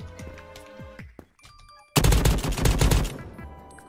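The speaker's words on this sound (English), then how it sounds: "Oh, this gun is deadly and loud." Spearmint rifle fire in the browser shooter Krunker.io erupts as a loud, rapid burst of shots lasting about a second, after a quieter stretch of game sounds and effects.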